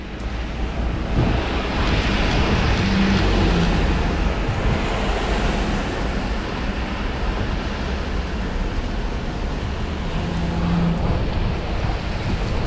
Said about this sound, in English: and now it's a heavy rain